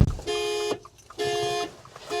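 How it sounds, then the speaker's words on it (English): A Subaru car alarm going off close by, sounding a loud repeating electronic tone in three half-second bursts separated by short gaps. "Alarm's going off."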